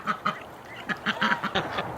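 Muscovy ducks and geese quacking and honking in a winter farmyard, a rapid run of close, loud calls in uneven bursts with no talking.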